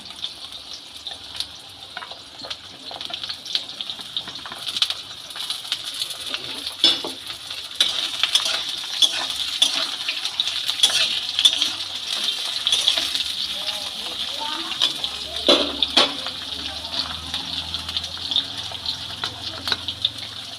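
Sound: chopped eggplant added to pan for shukto

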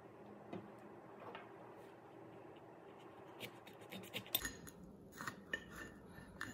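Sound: cutting open a Lemon Starrburst pepper

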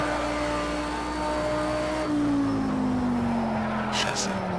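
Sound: Lamborghini Super Trofeo engine at full throttle, video game Project Cars 2

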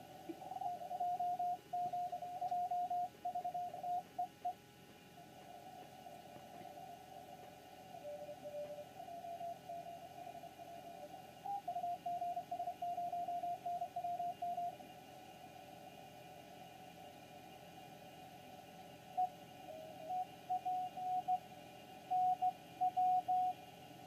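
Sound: homebrew HF SDR receiver tuned to 40 metre band

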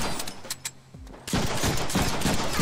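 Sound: gunfire in a Deadpool video game

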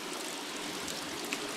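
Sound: water flowing from opened fish tank valve

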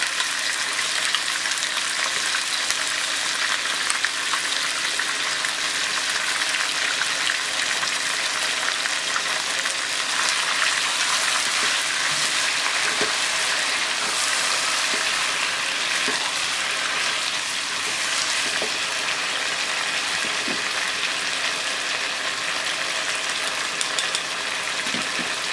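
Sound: chili sauce added to frying chicken, sizzling

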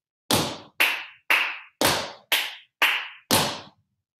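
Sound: hand clapping during tap dance class

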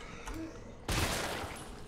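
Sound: Desert Eagle .50 gunshots in Resident Evil 3 video game

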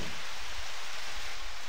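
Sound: rain in Harvest Moon video game

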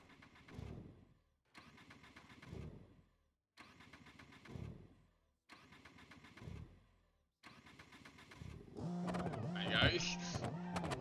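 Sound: car engine running in the video game BeamNG

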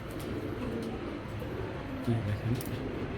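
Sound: pigeon

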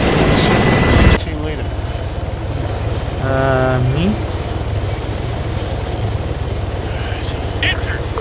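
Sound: helicopter flying in a video game

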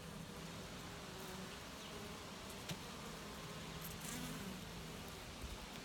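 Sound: honeybees buzzing in hive

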